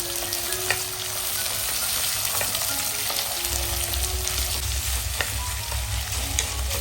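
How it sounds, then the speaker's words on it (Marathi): Sliced onions fry in oil with star anise, cinnamon and black peppercorns until golden brown, the base for a methi chicken. A steady, close sizzle runs throughout, broken by sharp utensil scrapes and clicks. "कांद्याला गोल्डन ब्राऊन करून घ्यायचे"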